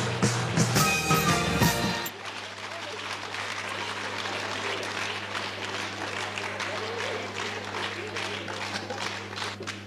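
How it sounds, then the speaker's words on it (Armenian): Sustained crowd applause with dense clapping, loud and continuous, starting over a brief burst of music and carrying on steadily to the end. "ծափահարությունները չեն դադարում"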